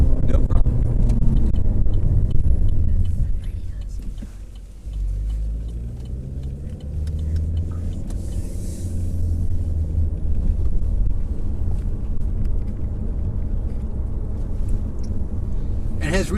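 Chevy Volt electric car climbing a steep hill, a steady low rumble of road and drivetrain noise with a brief dip midway, continuous and close inside the cabin, with people talking over it.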